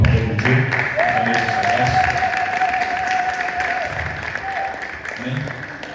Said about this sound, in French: Est-ce que vous pouvez acclamer pour la parole de Dieu?